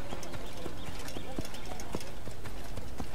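Horse hooves clip-clop steadily and up close while riding toward Damascus in Assassin's Creed, a continuous rhythmic trot with someone talking over it.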